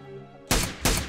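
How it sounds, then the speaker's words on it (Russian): Two sharp gunshots crack about a third of a second apart in a battle royale video game, each a loud burst that fades quickly after a quiet tonal lead-in. "Я слышу выстрелы,"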